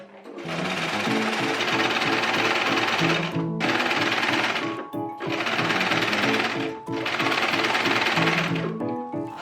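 A sewing machine runs in three long bursts with brief pauses between them, giving a fast, loud, rhythmic stitching chatter as it closes the side and shoulder seams of a garment from a 1958 pattern.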